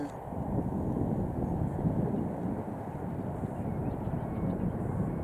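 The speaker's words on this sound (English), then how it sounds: "And there's another plane here." An airplane passes overhead outdoors at dusk, heard as a continuous distant low rumble mixed with wind buffeting the microphone.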